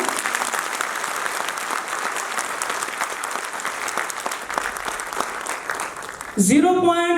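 A crowd at an arts council hall in Rawalpindi claps loudly and continuously through a speech, ending abruptly as a voice comes in over a microphone.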